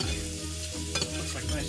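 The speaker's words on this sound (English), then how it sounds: "We're going to baste this steak with nice hot butter." A NY strip steak sizzles in a pan while being basted with hot butter, a close, steady crackling hiss with a brief louder spatter partway through and no voices.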